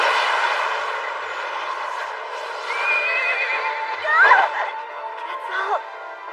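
A horse in an English-dubbed anime cries out in a long, wavering neigh that rises and trembles over several seconds, blended with another eerie howling voice singing along.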